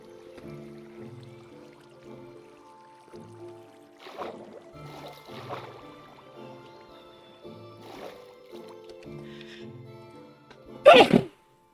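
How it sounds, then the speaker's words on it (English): A single loud, explosive sneeze bursts out near the end after a quiet stretch of soft background sounds. "Extremely loud sneezes, for which I apologise."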